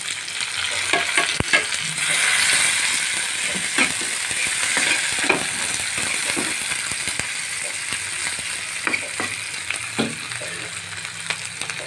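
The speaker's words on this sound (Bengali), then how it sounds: "দিয়ে দিলাম পেঁয়াজ কুচি, কাঁচামরিচ পাতাও দিয়ে দিলাম, তেজপাতা দিয়ে দিলাম।" Chopped onion, green chili and bay leaves fry in hot oil with whole cumin seeds for a bean dish, a steady close sizzle broken by scraping stirs and sharp crackling pops.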